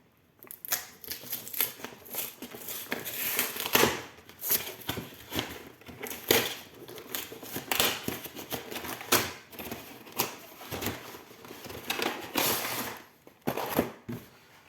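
A Pokémon Arceus V collection box with a figure and booster packs being opened by hand, close-up bursts of cardboard and plastic rustling, tearing and clicking in irregular clusters, with no one talking.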